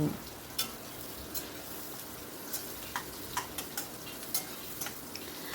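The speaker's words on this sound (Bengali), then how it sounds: "গ্যাসের ফ্লেমটা হাইতেই রেখেছি আর অনবরত কিন্তু নাড়ছি" Onions frying in a pan over a high gas flame, stirred without pause: a steady dense sizzle runs throughout, broken by regular sharp scraping strokes of the spoon against the pan. No voices.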